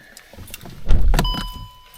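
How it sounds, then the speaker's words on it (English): A car door slams shut once with a loud, close thud, followed by a brief rattle and a faint electronic chime inside the vehicle. "Close the door."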